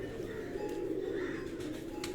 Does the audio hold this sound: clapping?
no